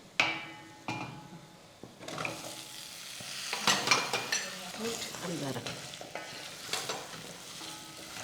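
Spicy black masala frying with drumsticks in a pan for a village-style drumstick curry: a couple of sharp knocks, then a busy sizzle with repeated scraping stir strokes, close and fairly loud, no talk.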